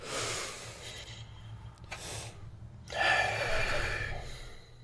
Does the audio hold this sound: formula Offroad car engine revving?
no